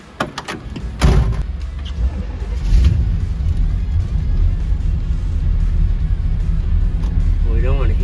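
A 1964 Pontiac GTO convertible idles and drives with a steady low engine rumble close by, with a door thud early on and people talking intermittently over the motor.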